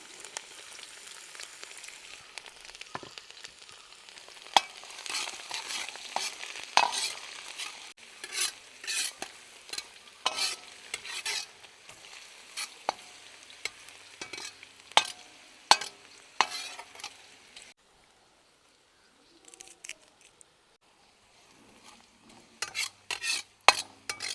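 Garlic and chopped ginger stirred and sautéing in a pan while making banana stem pickle, with steady close sizzling, frequent sharp spoon scrapes against the pan, and a quieter pause near the end before stirring resumes.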